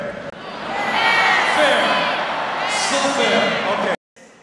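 A 12,000-strong crowd at a charity tennis match between Li Na and Djokovic cheers, shouts and whoops loudly for several seconds. It cuts out abruptly near the end.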